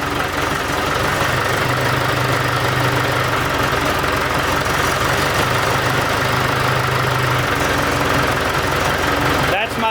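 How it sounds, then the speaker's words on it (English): A Ford 172 diesel tractor engine idles steadily at about 620 RPM, a loud, close, continuous chugging with a faint knock, while a person talks over it. "About 620 RPM. But listen to the tractor."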